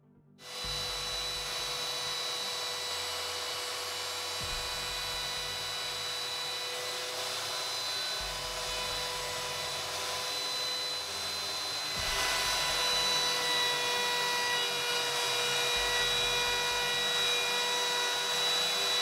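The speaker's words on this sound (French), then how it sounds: "Ensuite, je fais une entaille à la défonceuse pour faire rentrer le mécanisme." A handheld wood router cuts a notch in wood to seat a clock mechanism, its steady high-pitched motor whine running continuously for the whole stretch with periodic low thumping pulses beneath.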